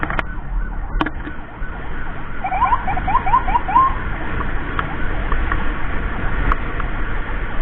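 Mitra Medika emergency ambulance siren heard faint and distant amid steady traffic rumble, with a brief burst of quick high yelping chirps in the middle and a couple of sharp clicks near the start; no talk.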